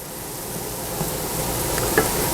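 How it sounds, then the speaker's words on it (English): Finely chopped garlic sautéing in a hot pan, a continuous close sizzle that swells slightly, with one faint utensil clink near the end and no talking. "I want to just saute the garlic"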